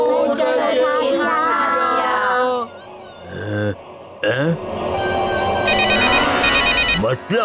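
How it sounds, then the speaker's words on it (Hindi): A telephone rings in a Chhota Bheem cartoon, a bright electronic ringtone trilling in repeated bursts near the end. Animated character voices and music fill the earlier part. "किसी ने फोन किया।"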